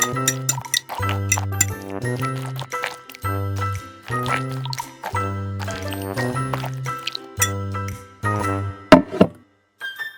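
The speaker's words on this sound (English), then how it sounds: "Finally, crack an egg into it. Mix well." Egg is mixed into meat in a miniature bowl: a small utensil clinks and taps repeatedly against the tiny bowl in quick bunches, close and bright, over steady background music.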